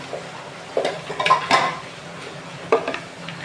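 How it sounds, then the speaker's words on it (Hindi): Bay leaves go into a cooking pot for Sindhi bua chawal, with a few light clinks and taps of a utensil against the pot and a soft rustle, scattered over a faint background. "सबसे पहले हम लोग इसमें तेज पत्ता डालेंगे"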